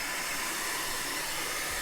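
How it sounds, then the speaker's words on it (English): A hair dryer blows steadily to loosen sticker adhesive on an Xbox Series X console, a continuous close, broadband whooshing hiss with a low motor drone, unbroken and with no talk. "All right, I guess we're busting out the hairdryer again."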